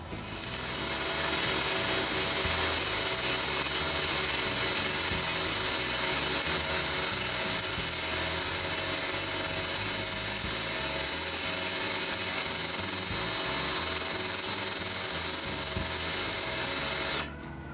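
A power drill whines loudly and continuously at high pitch, running steadily for the whole stretch before cutting off at the end.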